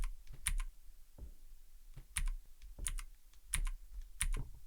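Keyboard key presses in a Playdate handheld game, a series of crisp clicking taps in small clusters spread across the moment, with no voice over them.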